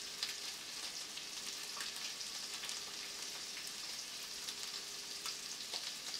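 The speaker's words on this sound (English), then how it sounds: "I like that nice sizzle too." Prawns sizzle in melted butter in a pan, a steady crackling hiss with scattered pops that holds evenly throughout, with no talking over it.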